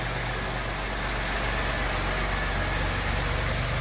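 A 1993 Buick Park Avenue engine idles steadily, a smooth, even, low rumble heard close and continuous with no revving or voices.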